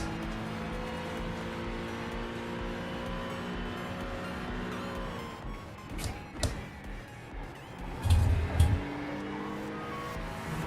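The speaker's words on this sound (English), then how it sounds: "Got an LMP2 closing in" Onboard engine drone of a race car at Watkins Glen during a six-hour endurance race, with an LMP2 prototype approaching from behind; steady harmonic whine, brief knocks and a louder surge near the end, no voices.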